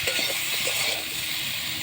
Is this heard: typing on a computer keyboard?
no